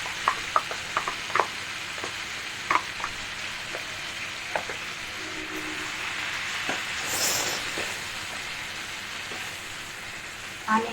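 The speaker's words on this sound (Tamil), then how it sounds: "ஆனியன் வதங்கட்டும்" Onions sizzle steadily in a pan for a spiced paneer butter masala, with a constant frying hiss and scattered clicks and scrapes of stirring throughout.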